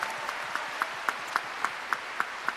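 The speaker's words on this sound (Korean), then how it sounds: "네, 다시 한번 큰 박수 부탁드릴게요." Concert-hall listeners at a book talk event clap in slow, even unison, about four beats a second, each clap a crisp distinct hit over a soft, quieter background.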